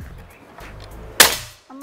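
A single sharp shot from a PCP bullpup air rifle, a Black Army Tactical model, cracks loud and close after quiet background, followed by a brief fading tail.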